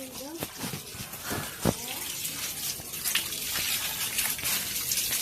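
Water sprays and splashes steadily onto the engine of a Dodge being washed during repair work, a continuous hiss with brief louder bursts while people talk nearby.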